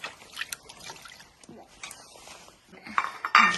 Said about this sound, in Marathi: हो प्लेट धुवून मस्त तयार आहे.